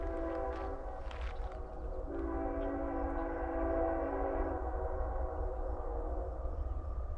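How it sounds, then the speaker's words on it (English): A BNSF intermodal freight train led by unit 7116 climbs the steep 4% West Chillicothe Hill grade, its horn sounding in long sustained blasts that echo from a distance over a low rumbling engine. "Hear the horn echoing out in the background."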